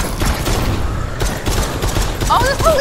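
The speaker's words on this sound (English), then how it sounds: "the police is shooting at me!" Police firing at the player in a video game: a dense, continuous rattle of shots mixed with mechanical clatter and busy game noise, with voices faintly underneath.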